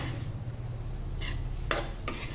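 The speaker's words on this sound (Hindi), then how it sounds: "छः 7 मिनट तक हम इसको धीमी आंच पे अच्छे से भून लेंगे" Wheat flour roasting in a pan on a low flame, a faint background hum with several short scraping strokes of a spoon against the pan in the second half; nobody talks.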